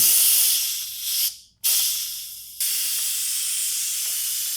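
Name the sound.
pressure cooker steam release hissing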